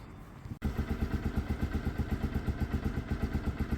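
Piaggio Fly scooter engine cranking and catching after a brief pause, then settling into a steady, close, pulsing idle with choke on, a fairly loud even putter.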